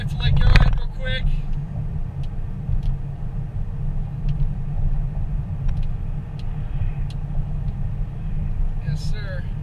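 Car driving at dusk on mountain roads between Big Bear Lake and Lake Arrowhead, a steady low road and engine rumble throughout, with a louder thump near the start and brief faint clicks above.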